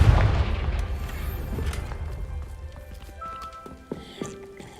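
In Hogwarts Legacy, a Confringo blasting spell goes off with a heavy booming explosion at the start, its rumble decaying over a few seconds, followed by faint scattered clatter and small hits.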